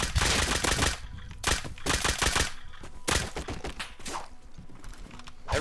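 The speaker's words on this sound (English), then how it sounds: "the turrets are lighting me up" Automated turrets in the survival game Rust firing rapid bursts of gunfire, loud and close, in several stuttering volleys with brief gaps between them.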